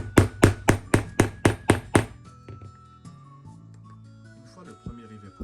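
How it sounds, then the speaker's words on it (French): Eight sharp, evenly spaced hammer blows strike a rivet setter on a small anvil, fixing a rivet through a leather belt, followed by a few softer, scattered knocks and taps. "Mettez le capuchon, puis utilisez le petit enclume et le pose-rivet pour fixer celui-ci."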